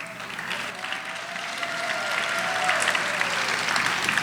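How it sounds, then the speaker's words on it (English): An audience at the Ms Senior DC Pageant gives a pageant contestant sustained applause that holds steady and grows slightly fuller toward the end. "Give her a round of applause"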